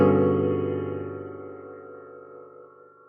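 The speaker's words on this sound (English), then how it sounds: "Now, a polychord happens when you have two different chords that are played at the same time." A sustained, dissonant polychord, two different chords stacked and struck together, rings out once and slowly decays over about three seconds with no one talking.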